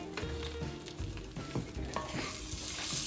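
Candied nuts stirred in a pan of melted butter and sugar, a close, steady sizzle with scraping stirs and soft clinks of the utensil against the pan, no talking.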